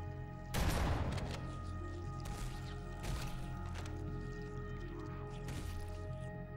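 Rocket launcher and shotgun fire in Halo: Combat Evolved Anniversary, a loud blast at the start followed by several more spaced shots over a droning game backdrop.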